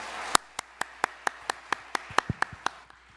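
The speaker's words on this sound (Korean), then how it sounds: "여러분 힘찬 박수로 좀 맞이해 주시면 감사를 드리겠습니다" A small church audience clapping to welcome a speaker, about a dozen distinct, evenly spaced claps ringing out sharply over a quiet room.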